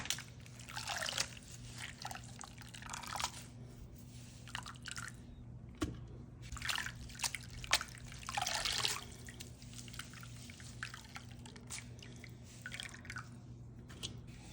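Soaked ingredients for Ghanaian palm nut soup are strained, giving wet dripping, trickling and squishing sounds in irregular bursts, close and fairly quiet, over a low steady hum.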